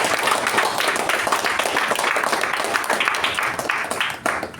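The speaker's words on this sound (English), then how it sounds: "it's time we give these leaders a huge round of applause for their dedication" An audience at a club meeting applauds outgoing leaders. The sustained applause is dense, many-handed and fairly loud, with no break in the clapping, and it thins slightly toward the end.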